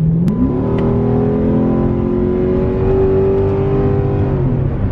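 A Dodge SRT8 engine revving up close, its loud growl climbing in pitch and then holding a steady drone as the car pulls away.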